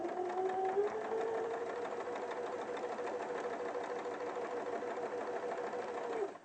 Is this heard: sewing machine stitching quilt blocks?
yes